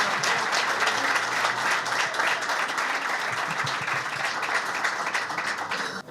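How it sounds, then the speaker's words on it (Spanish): Steady audience applause for candidates at a Chubut provincial deputies election debate, an even, sustained patter of clapping with no voices over it. "El aplauso para los candidatos nuevamente y para todos ustedes"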